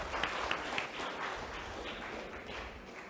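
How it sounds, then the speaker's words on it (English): A crowd applauding at a leadership event, soft and somewhat distant, a steady patter of many hands with a few sharper claps standing out, no voices over it. "Ladies and gentlemen, big round of applause to"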